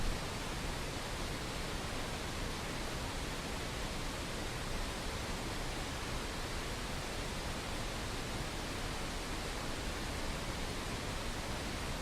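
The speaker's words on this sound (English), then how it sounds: "It's a white noise generator." Continuous broadband hiss from a white noise generator, unchanging and fairly soft, fills the whole stretch alone without any voices or other sounds.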